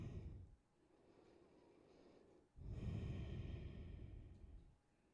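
Slow, deep breaths during a yoga flow, a long exhale followed by a stronger inhale-exhale lasting several seconds, close and fairly quiet, with no talking.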